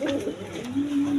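Danish pigeons, a red-necked pair, cooing close by in a steady, droning coo with a sustained tone, alone and without talk.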